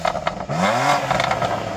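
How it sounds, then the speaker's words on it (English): A BMW M2's engine revs hard, its pitch sweeping up and falling back twice, loud and close, with crackling pops and bangs from its standard exhaust between the revs; no soft limiter. "So I'm going to rev up this M2."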